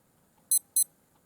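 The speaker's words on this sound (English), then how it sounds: "Let's wait until it makes a beep sound." Two quick, high-pitched electronic beeps from a Samda 2165 digital wrist watch, close and crisp, separated by a short pause in otherwise quiet surroundings.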